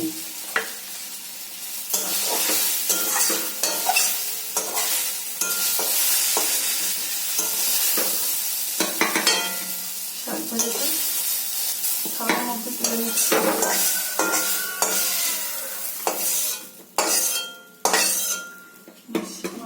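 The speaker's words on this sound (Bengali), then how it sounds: "এই শাক ভাজতে বেশি দেরি যাবে না" Leafy greens sizzle in a hot pan while a utensil scrapes and stirs repeatedly, with clinks of metal against the pan throughout.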